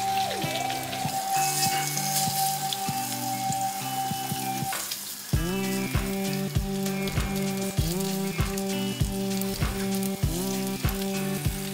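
A piece of large fish sizzles in hot oil after being flipped, a loud, close, steady crackle with a sharp clatter midway and a run of regular clicking taps underneath afterward.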